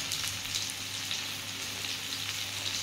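Tomato softened in a frying pan with cumin, chili powder, turmeric and salt, giving a steady, close sizzle of frying with faint stirring, heard alone with no talk.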